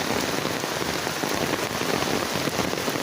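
Torrential rain pours down steadily and loudly, a dense close wash of drops hitting surfaces all around, with no voices.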